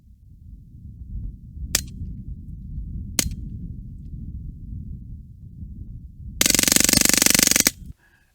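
A suppressed AR9 with a Maxim Defense roller delayed blowback system and a very large suppressor fires outdoors: two sharp single shots a second and a half apart, then a rapid automatic burst of about one and a half seconds over a low background rumble.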